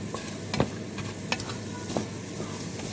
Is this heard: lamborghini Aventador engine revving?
no